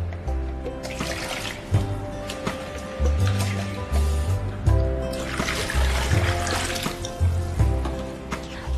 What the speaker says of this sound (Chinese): 再倒入适量的清水